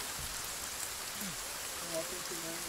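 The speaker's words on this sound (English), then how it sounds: "Man, that rain is loud." Steady video game rain hisses across the whole clip, a dense continuous wash with a few faint tonal blips and no talking.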